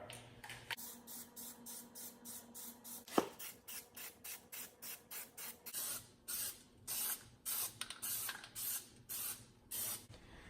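Short bursts of aerosol Plasti Dip spray hiss onto car wheel rims in quick repeated passes, close and fairly quiet, with brief pauses between each spray.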